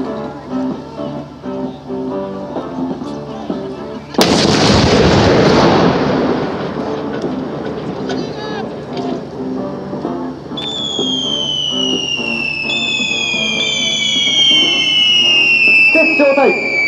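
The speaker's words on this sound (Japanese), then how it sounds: "特化の空砲射撃を行います。 非常に大きな音がしますので耳を塞いでください。" A single loud blank artillery shot fires during a military combat training display at the Fukuchiyama garrison anniversary event, a sudden heavy boom followed by a long rolling rumble, with an announcer's voice and later descending whistling tones.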